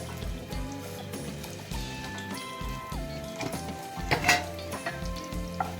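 Bay leaves and cumin seeds sizzle in hot oil in a pan over low flame, a steady close crackle with occasional stirring clinks and a faint tonal hum.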